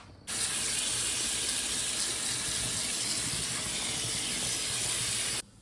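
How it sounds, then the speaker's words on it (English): Cold tap water streams steadily over drained cooked rice in a home kitchen while making mutanjan, a constant close hiss of running water that starts and stops abruptly, with no talking. "drain them and then put cold water through them so it stops the cooking process"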